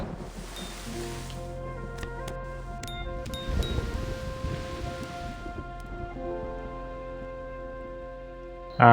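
Rain falling in the ecosystem-building mobile game Preserve, a soft steady hiss layered under calm, sustained tonal background music, strongest in the opening second.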